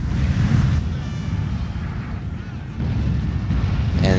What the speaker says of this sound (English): he fired those howitzers right on his own troops